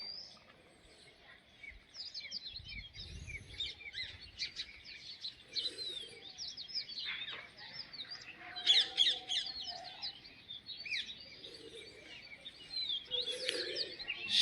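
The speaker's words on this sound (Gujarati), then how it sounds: "માણસ જાગે છે, ખિલખિલાટ પંખીડાઓ કરે છે." On a calm, chilly winter morning, many small birds chirp and twitter in dense, high, overlapping bursts, with a brief low thump early on.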